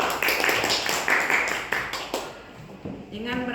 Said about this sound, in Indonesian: Kita kasih tepuk tangan dan aplaus yang luar biasa untuk Bu Iin